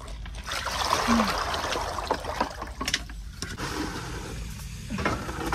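A child plays with water while washing up, making continuous trickling and splashing close by, with voices talking over it at times.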